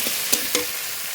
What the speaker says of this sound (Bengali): ভেজে রাখা আলু দিয়ে দেবো মশলা আলু ভালো করে মিশিয়ে দেবো এবার জল দেবো